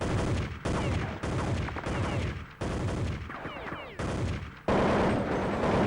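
Rapid gunfire in a Counter-Strike 1.6 tournament match, loud dense bursts of automatic shots that stop and start in chunks with brief gaps, ending in a sustained heavy volley.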